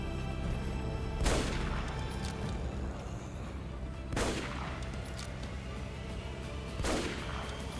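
Three spaced WW2 rifle shots from a zombie co-op shooter, roughly three seconds apart, each a sharp broadband crack with a short tail, set over a steady low ambient bed.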